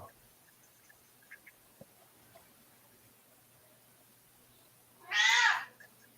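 A cat gives a single fairly loud meow near the end, after several seconds of quiet room noise with a few faint clicks.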